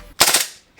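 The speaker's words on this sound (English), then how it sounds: "It does a full auto." A KSC Auto Nine gas blowback airsoft pistol fires a very short full-auto burst, a rapid clatter of a few close, sharp cracks that tails off quickly.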